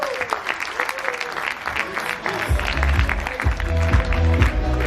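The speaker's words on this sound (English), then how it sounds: "a big round of applause for Mr. Peter" Audience applause at a Crowd1 company recognition event, a sustained wash of clapping with music entering partway through and rising beneath it, plus some voices.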